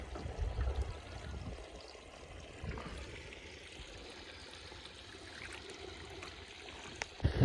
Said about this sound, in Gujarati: આપણે મોટરનું પાણી આવે છે